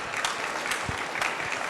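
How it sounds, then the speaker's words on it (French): Applause from an audience at the Natexpo 2024 trophy ceremony, greeting the award winners with steady, dense clapping close by for a short burst. "On vous applaudit bien fort,"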